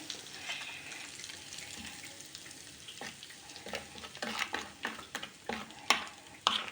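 Red pepper powder sizzles in hot fat for kaçamak, a soft crackling fry that grows busier, with sharp clinks and scrapes of a spoon against the pan toward the end.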